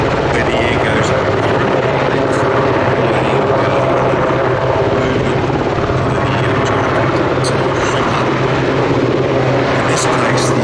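Westland Sea King HAR3 helicopter at an air festival, its rotor downwash a steady loud roar with a low, throbbing rotor beat that carries on unbroken throughout, heard close and continuous.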